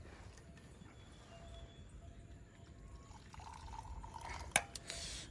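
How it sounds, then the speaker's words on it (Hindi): Hot tea is poured into a cup at a rain-soaked solo campsite, a faint, low trickle over steady rain hiss, ending in a few brief drips and clinks. "तो फटाफट अब चाय भी डाल लेते हैं इस पे।"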